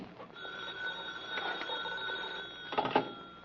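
A telephone bell rings steadily with a metallic trill, faint and slightly distant, ending in a couple of sharper knocks.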